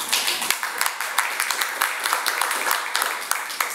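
A single person, Anita, claps during a church gathering with a special guest, Hal Hansen: a steady run of sharp, moderately loud hand claps at a fairly quick, slightly uneven rhythm over several seconds.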